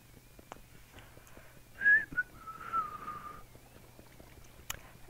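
A person whistles alone in a quiet room, giving a few short, breathy, wavering notes that fade out quickly, with a low background hum underneath.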